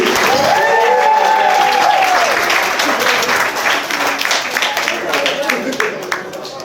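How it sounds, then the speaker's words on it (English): Wedding guests at Merrydale Manor applaud the groom, a loud sustained burst of clapping with cheers and voices over it, thinning slightly toward the end. "Keep that applause going for the groom."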